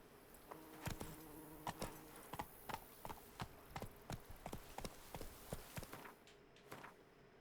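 A horse trotting in The Witcher 3 in Toussaint, crisp separate hoof clops in an even, fairly quick rhythm, close and fairly quiet, with a faint insect-like buzz behind.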